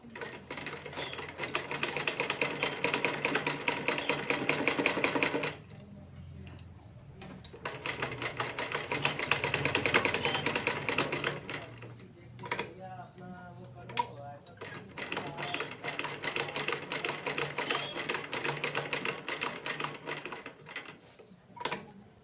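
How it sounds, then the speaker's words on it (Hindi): A sewing machine stitches cord piping with colored thread, using a presser foot, running in steady rapid bursts separated by short pauses, with one slower stretch of stitching before it speeds up again. "अब हम एक प्लेजर पर इस कलर के धागे से सिलाई देंगे"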